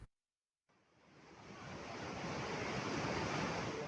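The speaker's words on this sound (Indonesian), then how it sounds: "Banjir bandang dari arah hulu sungai menyeret satu unit truk yang hendak mengangkut pasir di Sungai Pekacangan" Flash-flood water rushes down the Pekacangan river in Banjarnegara, a dense, steady roar that swells in from a brief silence and holds loud and constant.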